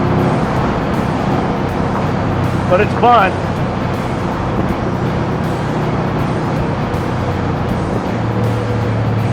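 A 1961 Corvette with a TKX gearbox drives at speed through traffic, its engine and road roar a loud, constant rush with wind buffeting, while someone speaks briefly over it.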